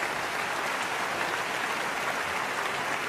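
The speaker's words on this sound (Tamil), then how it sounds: "ஒரு அரங்கம் நிறைந்த கைத்தட்டல் அந்த அன்பு மனிதருக்கு நாம எல்லாம் சேர்ந்து கொடுத்துடலாம்" A hall full of audience members claps together for a man being honoured at a community event. The applause is dense, steady and continuous from start to end, with no voices over it.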